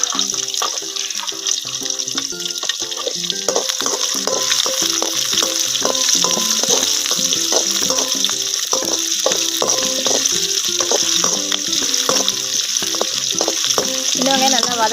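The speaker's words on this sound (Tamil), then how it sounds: "சின்ன வெங்காயம் நல்லா வதங்கட்டும்." Shallots and garlic frying in a pan for dry fish gravy, a bright steady sizzle overlaid by a prominent tonal pattern with repeated note-like steps that may be music, fairly loud and continuous.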